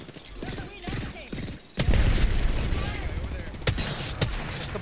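Apex Legends gunfire crackles in rapid bursts with mechanical clicks and clanks, set against talk in the first seconds, then a dense stretch of shots with a few sharp cracks standing out.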